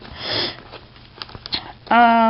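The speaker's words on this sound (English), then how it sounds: "Excuse the sniffling, I just came from outside." Several soft nasal sniffs in close succession, close-up, with breathy airflow and a brief voiced sound at the end.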